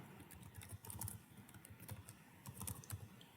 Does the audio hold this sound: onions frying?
no